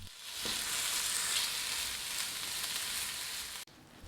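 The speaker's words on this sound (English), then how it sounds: "Fry the mixture for about 5 minutes." A mixture of chopped Chinese sausage and spring onion fries in a pan, giving a steady, fairly quiet sizzle that rises after a short pause at the start and cuts off abruptly near the end.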